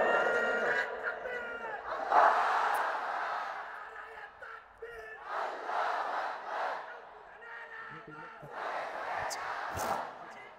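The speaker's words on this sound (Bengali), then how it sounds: "সবাই একটা তাকবীর দেন, লিল্লাহি তাকবীর।" At an Islamic waz mahfil, a large crowd shouts the takbir in unison in three loud, roaring waves, each swelling and fading with a pause between.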